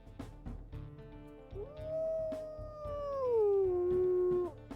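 A wolf in a wolf video game lets out a long, sustained howl that starts high, bends and slides downward, then cuts off, heard clearly with no talk over it.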